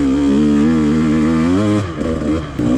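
A KTM 150XC-W TPI two-stroke dirt bike engine revs loud and close, its steady buzzing drone rising and falling before it drops away and picks up again near the end.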